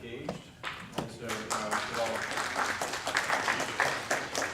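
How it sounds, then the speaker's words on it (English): An audience at a legislative district town hall meeting breaks into scattered clapping that builds into steady applause, with a speaker's voice heard over it at the start. "those people clapping are all the happily married people."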